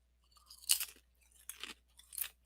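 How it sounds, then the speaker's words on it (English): Close, crisp chewing of taco flavored Doritos chips, with three distinct crunchy bursts spaced about a second apart and quiet gaps between them. "if you're chewing in the background, like taco flavored Doritos"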